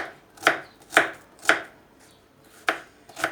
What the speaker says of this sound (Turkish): İlk başta soğanlarımızı doğruyoruz.